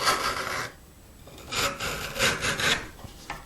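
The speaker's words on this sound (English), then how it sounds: "I'm just going to take a chisel and I'm going to pare" A sharp chisel pares a bevel on a 3/8-inch-thick wooden tenon by hand, giving several short scraping strokes in an uneven rhythm, close up and fairly quiet, with no talk.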